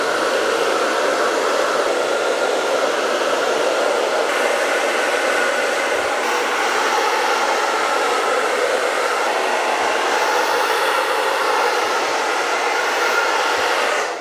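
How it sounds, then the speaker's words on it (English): Hair dryer fitted with a diffuser drying a man's hair after a haircut, a loud, steady airy whoosh running continuously throughout with slight shifts as it moves, no talk. "the hair dryer. The diffuser."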